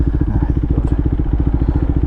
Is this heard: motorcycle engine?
yes